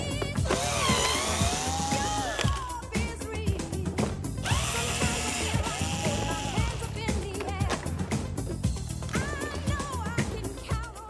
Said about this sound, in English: In the back here you need to undo 2 more star screws.